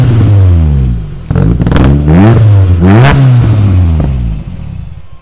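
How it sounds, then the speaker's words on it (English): A modified Opel Astra GSi project car with over 500 hp, its engine still cold, idles close by and is blipped through several sharp revs that rise and fall before settling back to a rough idle. "A little rev."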